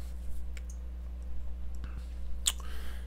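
Mouse clicks while working in Inkscape on a bitmap-to-G-code job for a laser or CNC, a few faint, sharp ticks spread over quiet room hum with one brighter click near the end.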